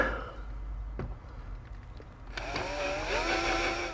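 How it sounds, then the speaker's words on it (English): A power drill with a 1/4-inch bit whirs up and grinds steadily at close range after a quiet start with a sharp click, its pitch wavering as it drills out metal rivets on a Foxbody Mustang door. "you're going to need a drill with a 1/4-inch bit to drill these rivets out"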